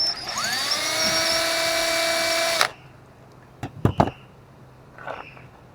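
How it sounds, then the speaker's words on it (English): An electric drill enlarging a hole in a coyote trap whirs loudly and steadily for a couple of seconds, then stops abruptly, followed by a few sharp clicks and knocks. "So we're going to drill that out"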